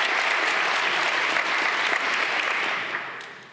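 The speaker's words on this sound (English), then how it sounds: "Okay, so big applause for Anton." A crowd at a PyCon and PyData Berlin lightning talk session applauds a speaker, with dense, loud clapping sustained for a few seconds before tapering off toward the end.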